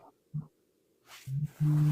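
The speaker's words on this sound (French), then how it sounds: "Attends 2 secondes, on m'appelle là." A phone signals an incoming call with short low buzzing pulses, one brief burst followed by two longer ones that grow louder and steadier toward the end, with near silence between them.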